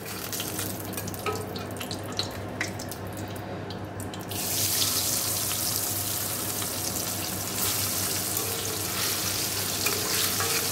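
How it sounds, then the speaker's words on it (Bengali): Pieces of paneer fry in a pan with a continuous broadband sizzle that grows noticeably louder partway through and then holds steady, with no voices. "চলো পনিরগুলো ভেজে নিই।"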